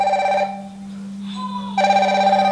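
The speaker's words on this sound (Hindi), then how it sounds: "अब मैं कॉल करता हूँ दूसरे फ़ोन से" A Fireboltt Infinity smartwatch ringing with an incoming call: a loud electronic ringtone with bright steady tones that breaks off briefly, then resumes, over a constant low hum.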